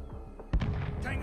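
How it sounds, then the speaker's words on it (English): A grenade blast in Call of Duty: Modern Warfare beta multiplayer, one sudden booming thump midway that rolls out into rumble beneath game voice chatter. "Grenade out!"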